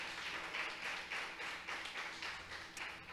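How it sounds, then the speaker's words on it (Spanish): A church congregation applauding during a Sunday sermon, a dense, continuous wash of many hands clapping at once, heard faint and somewhat distant throughout, with no talking over it. "¿Cuántos le dan un aplauso al Señor por esta palabra"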